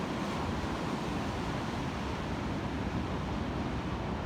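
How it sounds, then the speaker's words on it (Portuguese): Sea waves breaking on the beach at Praia Grande produce a continuous, loud, broadband surf roar that stays steady throughout, with no voices. "vocês poderem ouvir bem o som do mar e contemplar essa maravilha"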